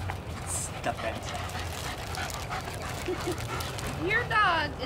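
A German shepherd whimpers and yips for treats indoors, short high whines rising near the end, with a person talking throughout and a faint low hum underneath.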